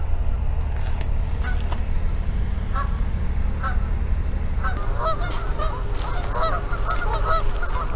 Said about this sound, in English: You might notice a near constant sound of geese honking away.